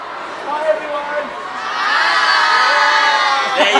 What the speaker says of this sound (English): people growing wild, they're going crazy, crazy